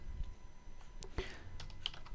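Close, quick keystrokes tap out a command on a computer keyboard, a short irregular burst of clicks alone in a quiet room.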